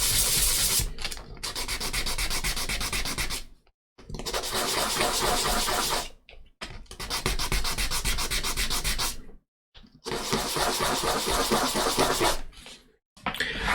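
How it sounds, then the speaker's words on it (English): Wood is rubbed by hand on 800 grit sandpaper for a ship model grating, giving loud rasping strokes in four long bursts separated by short pauses. "put onto a little bit of sandpaper. This is obviously an 800 grit, and then just sand it nice and smooth"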